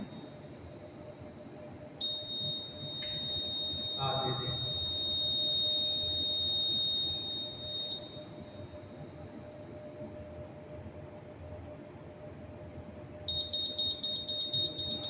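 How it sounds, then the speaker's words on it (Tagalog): A fire alarm panel in an electrical substation sounds a steady high-pitched buzzer tone for several seconds, stops, then resumes as a pulsing beep near the end over a quiet room hum. "you will hear only buzzer"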